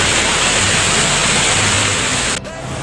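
Tamasin waterfall in Chatra, Jharkhand, pours fast rushing water in a loud, steady broadband roar close by, dipping slightly near the end.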